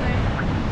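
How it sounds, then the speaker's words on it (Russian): Strong wind on a cold Oregon coast beach buffets the microphone with a dense, roaring rush, steady and close throughout this brief moment. "Ветер тут знатный."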